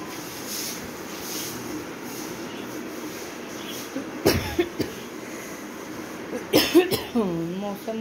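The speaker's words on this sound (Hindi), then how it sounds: "मुझे थोड़ी सी खांसी भी हो चुकी है" A few sharp coughs rise out of a low background rumble, two bursts spaced apart, followed by someone speaking.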